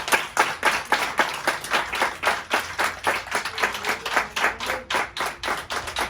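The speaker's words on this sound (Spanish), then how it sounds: "Dale un aplauso." A church congregation claps together in praise, a steady run of sharp, fairly rhythmic hand claps filling the room for several seconds, with a faint tone and slight murmur underneath.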